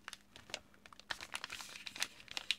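Thin wrapping paper being folded toward the center with a bone folder, giving close, crisp crinkles and rustles in irregular bursts, with no talking.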